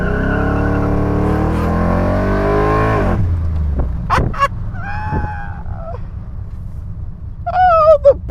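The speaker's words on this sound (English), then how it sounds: "All right, 6-liter V8. I'm just gonna go for it." A 6-liter V8 car on a test track revs hard through rising gear pulls for about three seconds, then cuts to a low idle burble punctuated by short blips, tire squeals and a final rising rev.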